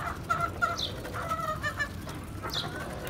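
Chickens cluck softly in a farmyard, several short broken clucks and a few higher calls over a low background murmur, no speech.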